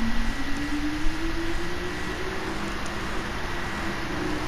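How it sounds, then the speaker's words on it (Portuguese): A Nissan GT-R Nismo with a 3.8 V6 twin-turbo engine in Gran Turismo 7 holds a steady, loud drone that rises slowly in pitch, heard alone without talk. "tô deixando vocês em silêncio pra ouvir o V6 biturbão"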